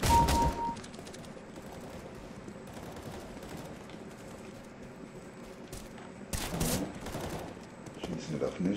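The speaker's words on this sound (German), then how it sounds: "Kollegen schießen auf mich." Video game gunfire: a loud burst at the start, then quieter ambience, and another volley of shots near the end.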